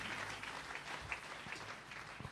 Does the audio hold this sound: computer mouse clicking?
no